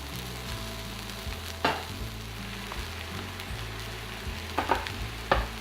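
Millet tipped into a hot pan with cumin, ground pepper and salt fries with a steady close sizzle, broken by a few sharp stirring clicks and scrapes.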